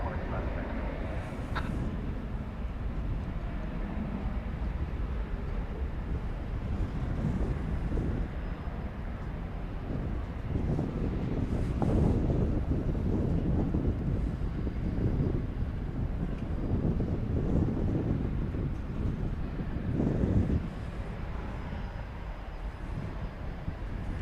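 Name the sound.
cargo airplane landing at DFW airport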